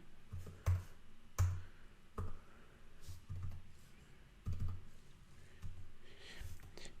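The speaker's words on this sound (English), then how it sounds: "we just want to type in the meeting ID" A computer keyboard being typed on to enter a Zoom meeting ID: a handful of quiet, irregular key clicks and taps, close but soft, with short pauses between keystrokes and no talking.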